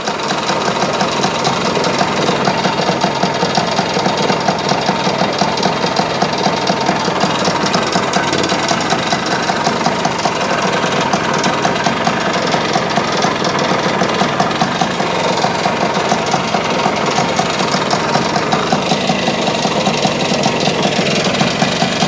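A loud, close Yamaha CT1 motorcycle engine idles steadily with a rough, rapid chugging rumble that holds for over twenty seconds without pause.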